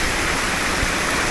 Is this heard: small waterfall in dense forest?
yes